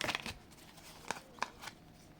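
Tarot cards being shuffled and drawn, faint, quick papery flicks and soft snaps in a few short bursts, close by and quiet, with no talking.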